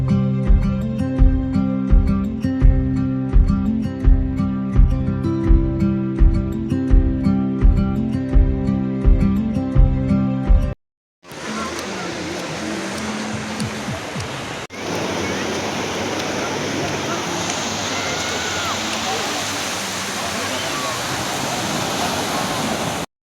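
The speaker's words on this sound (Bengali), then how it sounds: "সমুদ্রের এই আওয়াজটা শুনলেই মনটা ভরে যায়" Sea waves at Mandarmani beach wash in as a steady, broad roar of surf, following a stretch of unrelated music and a short gap, continuing loud and unbroken to the end.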